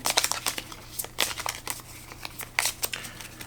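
A deck of game cards for the board game Paper Tales is shuffled by hand, giving close, quick papery riffles and snaps in irregular bursts with no talking.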